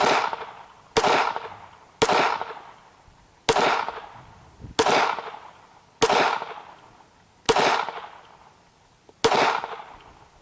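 Eight evenly spaced pistol shots from a World War 1 German Luger, each a sharp loud crack with a short decaying echo, fired at a steady pace outdoors.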